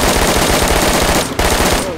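Rapid machine gun fire from a video game, loud and sustained bursts with a brief break near the middle before the shooting resumes.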